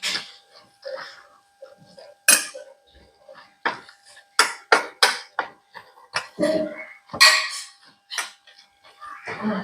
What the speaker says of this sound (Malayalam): നന്നായി ഒന്ന് ഇളക്കി കൊടുക്കാം.